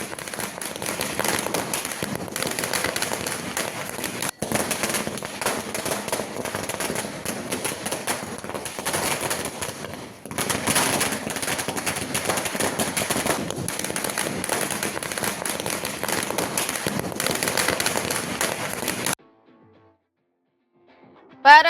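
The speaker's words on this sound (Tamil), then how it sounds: "அங்கு மாரியப்பனின் வெற்றியை கிராம மக்கள் பட்டாசு வெடித்தும் இனிப்புகள் வழங்கியும் கொண்டாடி மகிழ்ந்தனர" Villagers in Salem set off long continuous strings of firecrackers in celebration, a dense loud crackling barrage with sharp pops that runs almost unbroken for about nineteen seconds before cutting to near silence, with a brief burst at the end.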